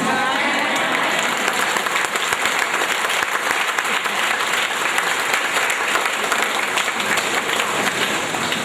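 An audience at a Sunday family Reiki satsang claps continuously and loudly, dense and sustained applause filling the whole stretch without a break.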